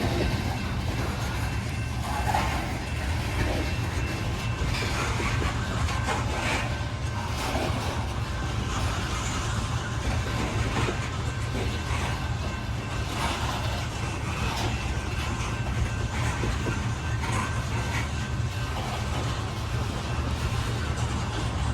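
A loaded CSX coal train slows down, a continuous low rumble and rolling roar that stays steady and fairly loud throughout, with faint rattling and whooshing layered on top and no talk.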